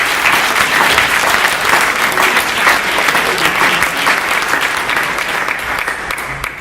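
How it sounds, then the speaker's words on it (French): An audience applauds an alumni team at a school cocktail reception, a loud, dense and continuous wash of clapping from many hands filling the room, easing off only slightly at the end. "Donc je vous remercie d'applaudir toute cette équipe."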